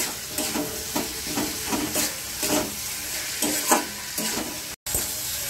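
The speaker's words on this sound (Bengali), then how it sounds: "মশলাটা ভালো করে কষিয়ে নিই।" A spice paste is stirred and fried in a pan for a fish-head and taro-stem dish. It gives a steady close sizzle with repeated scraping stir strokes and no voices.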